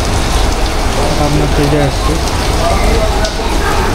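Rain falling outside a sweet shop makes a loud, steady patter and hiss close by, while someone talks over it.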